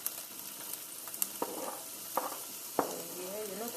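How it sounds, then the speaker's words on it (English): Chicken frying in a home kitchen pan, a soft steady sizzle running throughout with a few sharp utensil clicks and stirring scrapes scattered across it, no talking. "I am frying our chicken for a little while"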